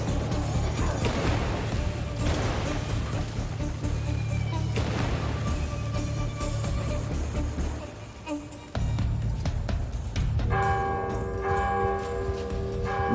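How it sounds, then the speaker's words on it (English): Bells ring in the video game Warhammer: Vermintide 2 over loud, dense game noise and clashes, and clear sustained metallic tones stand out near the end. "Ringing bells."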